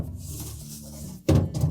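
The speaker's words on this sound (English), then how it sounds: "We'll remove any items that are in those lower crispers and then take the crispers out." A lower crisper drawer in a Whirlpool refrigerator being pulled out, heard as a brief plastic scrape and clunk right at the microphone, after a moment of quiet.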